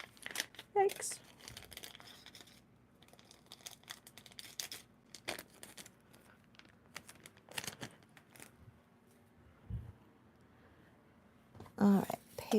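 Paper crinkles and crackles in scattered bursts as paper flowers are handled and shaped, with faint rustling between the louder crunches.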